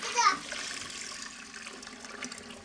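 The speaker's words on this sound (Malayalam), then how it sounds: "ആവശ്യത്തിന് വെള്ളം ചേർത്ത് കൊടുത്തു" Water is poured into a pot of hog plum curry while it cooks. A short, fairly soft splash rises at the start and then fades into a quiet trickle, with faint talk behind it.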